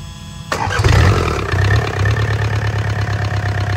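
A Yanmar 4TNV88 diesel engine with 88 mm bores cranks over and catches, then settles into a steady, close, loud idle with an even low chugging rhythm and no speech over it.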